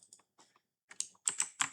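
Computer keyboard typing during a PowerPoint session: a few soft, scattered keystrokes first, then a quicker, louder burst of clicking, heard close and without talk.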